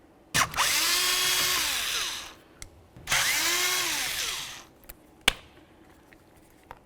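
A power driver backs out two T20 screws from the steering wheel trim panel of a 2000-2006 Chevrolet Tahoe, with two close bursts of whirring motor about two seconds each, the pitch rising and falling, followed by light clicks and taps.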